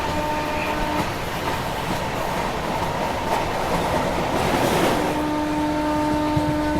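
Leelan Express train approaching on the line, a steady broad rumble with tonal hums and wheel noise building loud and continuous, with no voices.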